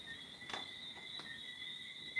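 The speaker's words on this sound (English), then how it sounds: "Look, see, crickets." Faint crickets chirp in a steady, high, continuous trill with a few soft clicks, quiet and alone, with no voices.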